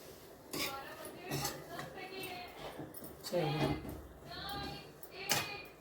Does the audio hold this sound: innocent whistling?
no